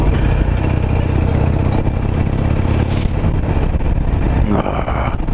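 A 17-year-old fuel-injected Harley-Davidson Nightster motorcycle riding up a road, its engine a loud, close, continuous roar with a steady rumbling throb and no talking.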